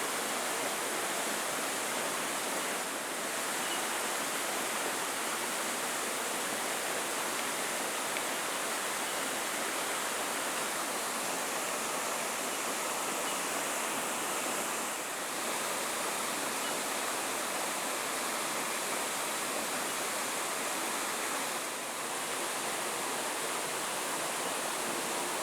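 A steady waterfall at a bass fishing spot rushes continuously with broad hissing noise, even and unbroken for the whole stretch, with no voices.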